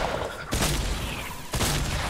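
Gunfire in the Fortnite video game, heard as two loud bursts of rapid shots about a second apart over a steady background of game noise, with no talking.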